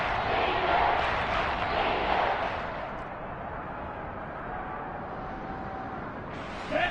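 A large football stadium crowd at a Buccaneers versus Lions game roars loudly and steadily, swelling in the first seconds, easing to a sustained murmur, then briefly surging again at the end.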